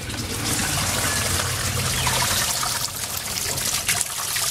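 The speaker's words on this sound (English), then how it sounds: "And the water flows back through." Steady broadband rush of water flowing and trickling back through an aquaponic radial flow filter tank, continuous and fairly loud throughout, with no voices.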